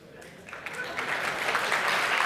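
Audience applause welcoming German Chancellor Olaf Scholz on stage at a conference, starting thin and swelling into steady, dense clapping from a large crowd.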